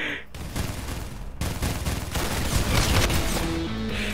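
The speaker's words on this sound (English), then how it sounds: "I hear like shooting around me." Dense, continuous gunfire in the Roblox shooter Arsenal, rapid overlapping shots forming a loud fusillade with brief breaks and a sharp burst near the start.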